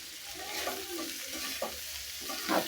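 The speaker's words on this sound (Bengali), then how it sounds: "ঢাকনা ছাড়াই ভাজিটা করবো। তো দেখতে থাকুন, দেখুন কীভাবে ভাজি করি।" Bitter gourd and potatoes stir-frying in an open, uncovered pan: a steady sizzle runs throughout, broken by a few scraping stirs of the spatula, the loudest near the end, with no talking.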